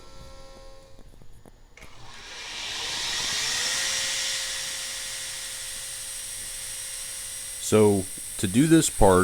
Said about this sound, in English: you're about to grind right onto the carbide, and obviously you'll dull the belt